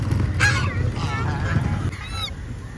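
Ducks or geese in a park honking in a few short, close bursts over a busy background murmur, with faint voices nearby.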